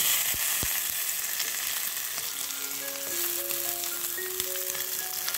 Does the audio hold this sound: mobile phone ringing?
no